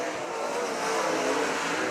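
Race cars in a heat race at Thunderbird Raceway roar past as a dense, continuous wall of engine noise at steady loudness, with no talk over it.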